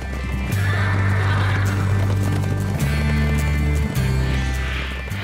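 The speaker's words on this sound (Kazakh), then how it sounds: "Дәл қазір міне көк иірім жотасынан шаруа қожалығының жылқылары суатқа келіп жатқан сәт." A herd of farm horses arrives at a watering place below a blue-pool ridge near Alakol, with loud, close neighing and whinnies over a steady patter of clip-clopping hooves throughout.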